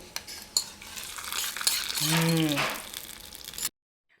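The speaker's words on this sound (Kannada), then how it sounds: "ಈಗ ಸ್ವಲ್ಪ ಒಗ್ಗರಣೆ ಕೊಡ್ತೀನಿ" Spices for tempering sizzling in hot oil, a close bubbling fry with clinks of a utensil and a brief tonal whine midway, ending abruptly in silence.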